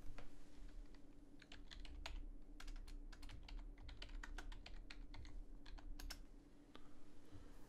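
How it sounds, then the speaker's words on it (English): Steady typing on a computer keyboard while entering a search in an Asus BIOS menu: a rapid, irregular run of close, crisp key clicks over a low constant hum, with no voices. "if I typed in Precision Boost"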